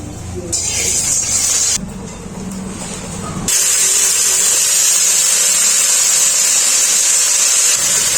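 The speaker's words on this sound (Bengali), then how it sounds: "দিয়ে উচ্ছেটা ভেজে নেব।" Bitter gourd sizzling in hot oil in a wok, first in a few uneven bursts, then a loud, close, continuous hiss that holds steady to the end.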